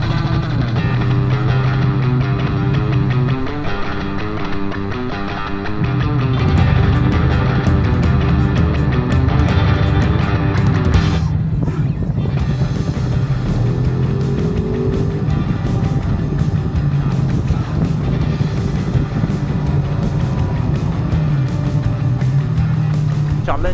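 A Ducati motorcycle rides through Tuscany, its engine droning loud and steady up close with a deep low rumble, a brief lull partway through, then strong, continuous revving and road roar.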